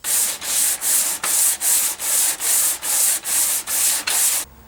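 Wood for a guitar fretboard is sanded flat by hand with sandpaper, about eleven even back-and-forth strokes in a steady rhythm, close and clear with no talk.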